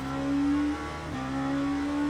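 An LMP2 prototype race car in the sim racer Le Mans Ultimate at the Algarve circuit, its engine holding a loud, steady high-revving drone under full power with only a slight dip midway.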